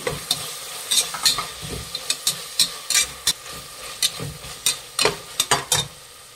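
Carrot and peas get stirred in a hot frying pan for soya biryani, with a quick series of sharp spatula scrapes and taps over a low sizzle and no talking.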